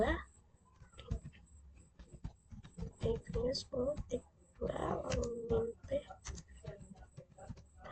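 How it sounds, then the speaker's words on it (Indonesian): SSH command being typed on a computer keyboard, a quick run of close, light key clicks and taps, with a person talking over parts of it. "Di sini kita bisa ketik perintah SSH"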